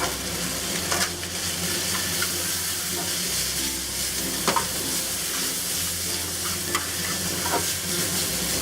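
Chicken pieces stir-fry in a hot pan with dark soy, giving a continuous loud sizzle and a busy scraping and tossing texture, with a few sharper knocks of the utensil against the pan.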